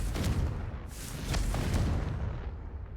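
The Confringo blasting spell goes off in Hogwarts Legacy: a heavy, booming explosion with a rumbling, crackling tail that swells and fades.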